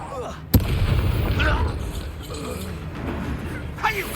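Confringo fire spell explosions in the Hogwarts Legacy video game: one sharp blast near the start, then a sustained rumbling roar with a smaller burst near the end, under distant voices.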